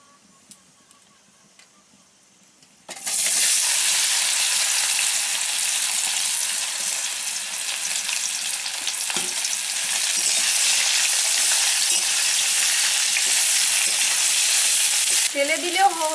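After a few quiet seconds, a loud, steady sizzle and hiss rises as rice flour hits a hot pan for a sweet-sour-spicy chalta (elephant apple) pickle, continuing unbroken to the end.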